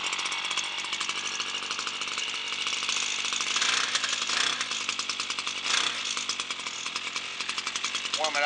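Small engine of a Toro TC 5000 running and warming up, a steady buzzing, raspy drone held close and fairly even, with slight fluctuations in speed.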